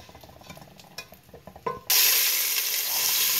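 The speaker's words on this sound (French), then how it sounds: "Let's fry the onion for 2 to 3 minutes." Chopped onion is stirred in a pan, with a few scraping clicks of the utensil before a loud, continuous sizzle of frying suddenly starts and carries on steadily close by.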